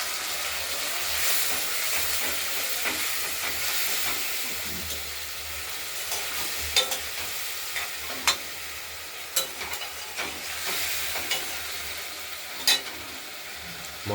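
Spices and turmeric frying in a pan for a katla fish curry, a continuous close sizzle and hiss broken by occasional scraping taps of a stirring spoon.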